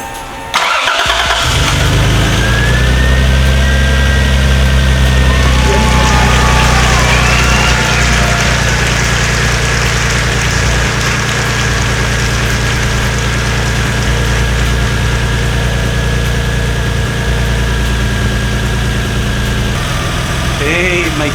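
A car engine with its serpentine belt on the pulleys cranks and catches, then settles into a loud, steady idle close by, with a thin high whine running over the rumble.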